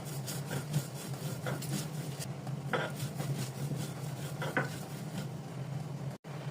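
Dried fish (shutki) with onion and salt being ground on a grinding stone, a soft repeated rubbing and scraping at an even rhythm, close and fairly quiet, with one brief dropout near the end.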